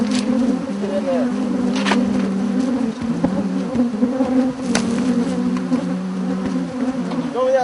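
A large swarm of bees invading a house in west Houston buzzes loudly and steadily throughout, with scattered knocks and clicks over the drone and faint voices in the background.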